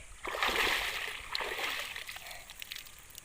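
A child learning to swim in a river splashes through the water nearby, a burst of churning splashes that eases into softer sloshing.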